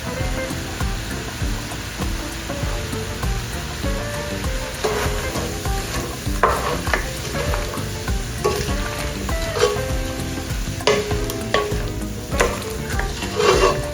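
Chicken and sausage jambalaya sizzles and fries steadily in a pot, a loud continuous crackle with occasional stirring scrapes, no talking.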